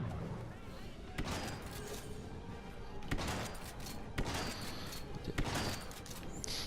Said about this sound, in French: Et ce fusil à pompe il fait très très mal